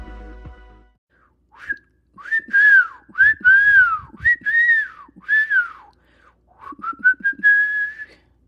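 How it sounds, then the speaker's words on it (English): A person whistles a lively melody of rising and falling phrases, clear and close, with short pauses between runs of notes. "I'd love to say that I'm whistling for you"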